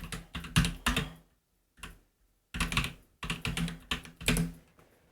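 Keys clatter on a computer keyboard in quick close bursts of typing, broken by short silent pauses, loud and alone without any voice.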